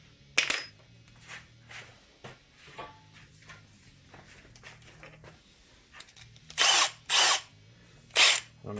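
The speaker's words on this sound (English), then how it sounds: "I'm gonna go ahead and do this with a hand drill" Several short bursts of a hand drill biting into wood, separated by pauses and quiet handling clatter; the last few bursts are loud and close.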